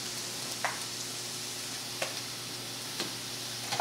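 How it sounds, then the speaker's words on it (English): Spinach sautés in a pan with a soft, steady sizzle and low hum, broken by a few light taps of a spoon or spatula about once a second, with no voices. "We've got our spinach still sauteing"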